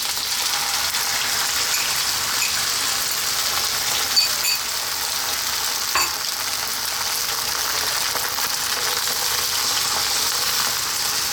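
Eggs frying in a little sesame oil in a pan, a steady close sizzle and crackle running throughout, with a couple of faint clicks and no talking.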